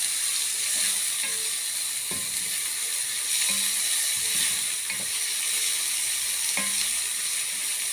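Onions frying in a pan for green fava beans give a bright, steady sizzle throughout, with scattered scraping and clicking stir strokes over it and no talking.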